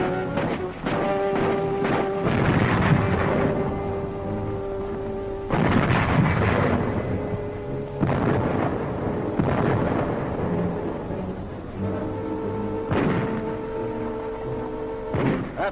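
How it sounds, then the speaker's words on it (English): German artillery bombarding Gdynia harbor in World War II, heard as repeated deep booming blasts that roll out over several seconds and return at intervals, loud and rumbling over a steady low background. "The Nazis direct their fire across the harbor."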